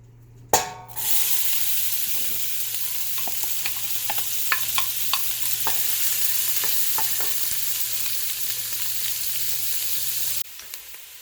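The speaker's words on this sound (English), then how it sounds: "We're going to start by sweating out our onions." Chopped onions sweat in a pot for a curry butternut squash bisque, a steady soft sizzle running throughout with scattered light clicks and scrapes of stirring, no voices, ending abruptly.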